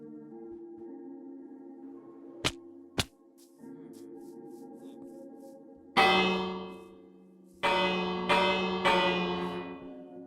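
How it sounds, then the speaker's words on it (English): Minecraft bell clanging twice in quick succession, sharp metallic strikes, followed by louder ringing bell tones that swell and fade three times over a steady ambient hum. "I don't know what that bell's for."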